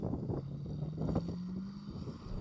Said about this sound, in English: Bit of precision engineered Japanese V8